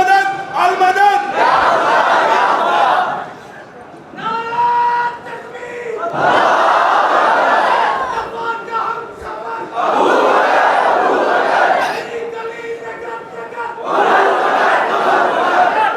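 A large crowd at a religious gathering chants slogans in loud call-and-response bursts, a leader's voice followed by massed roaring replies, repeating four times.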